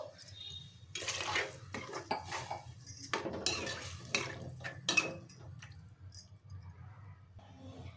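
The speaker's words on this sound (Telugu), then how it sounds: "కొంచెం వాటర్ వేసుకోండి." Water is poured into a pot of pearl millet khichdi, heard as short splashing bursts mixed with metal pot and spoon clinks, close and fairly quiet, with a voice talking in between.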